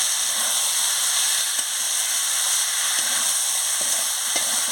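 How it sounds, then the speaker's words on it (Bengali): Young jackfruit curry with a little sugar stir-fried in a pan, giving a loud, continuous hissing sizzle close up with faint scraping taps from stirring. "দিয়ে ভালো করে কষে নিচ্ছি"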